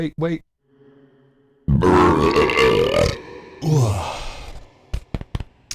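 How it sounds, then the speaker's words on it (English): A loud, drawn-out burp after drinking warm beer, close and rumbling for over a second, followed by a second shorter belch; brief talk and a hum come before it, with a few clicks after. "that's a warm beer burp for sure"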